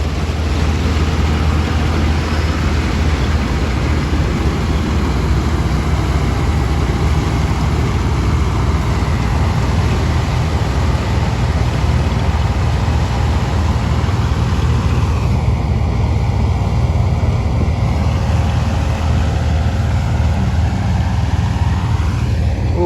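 A loud, steady engine rumbles continuously without a break, a heavy low drone that stays close and constant throughout.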